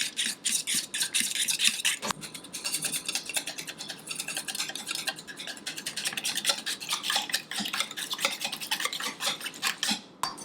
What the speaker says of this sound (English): So I'm just gonna start this with a fork. And the natural peanut butter is always a bit hard to mix.